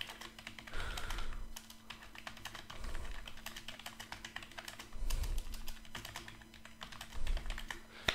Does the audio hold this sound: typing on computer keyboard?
yes